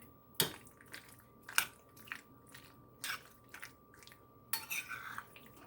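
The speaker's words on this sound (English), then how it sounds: "So now I'm going to give that a stir gently." A utensil stirs pasta salad in a bowl, giving a few separate scraping, clinking strokes with soft squishes between them, close and fairly quiet.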